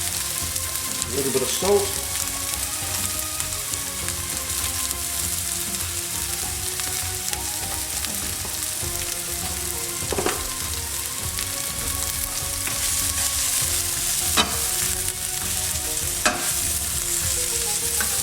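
Onions frying in a pan at the start of a lamb tagine, a steady broadband sizzle with occasional stirring clatter, moderately close and continuous, with a brief voice in the middle.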